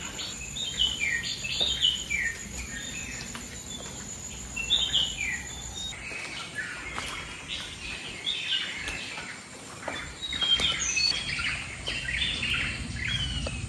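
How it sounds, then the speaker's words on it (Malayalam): Many birds, sparrows among them, chirp and sing around a house on a misty morning, a busy layer of small tweets at moderate distance with faint insect-like patter beneath. "കുറേ പക്ഷികളുണ്ട് കേട്ടോ."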